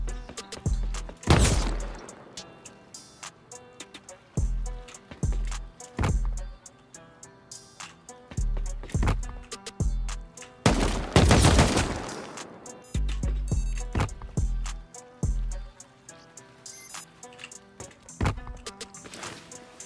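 Nail gun auto-turrets in a video game fire in repeated bursts of sharp, loud impacts spread across the stretch, with a couple of heavier, longer blasts standing out.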